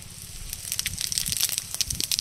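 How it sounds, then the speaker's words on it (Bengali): Whole cumin seeds hit hot oil for tempering, sending up a close run of sharp crackles and pops over a low sizzle, getting denser and louder as it goes, with no voices. "এবার তেলের মধ্যে দিয়ে দেবো গোটা জিরা ফোড়ন।"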